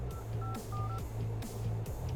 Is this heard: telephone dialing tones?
yes